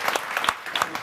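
An audience claps in lively, steady applause during a French-language televised hypnotist show, with dense, bright clapping filling the whole short stretch.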